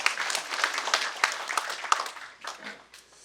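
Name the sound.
lecture audience applauding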